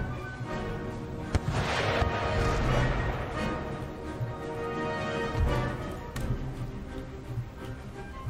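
Cannon and musket fire during a battle in Empire: Total War near Madrid, with several heavy booms and sharp cracks rising out of a continuous rumbling battlefield din.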